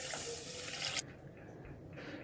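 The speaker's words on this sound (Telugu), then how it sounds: "ముందుగా ఒక బౌల్లో సామలను వేసుకొని వాటర్ వేసుకొని" Water pours into a bowl of little millet grains for washing, a steady splashing stream for about a second that then stops, leaving faint, quiet handling noises.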